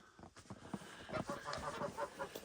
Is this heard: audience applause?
no